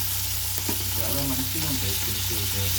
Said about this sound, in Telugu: ఇదిగోండి ఈ విధంగా చక్కగా అటు ఇటు కొద్దిగా ఫ్రై చేసుకోవాలి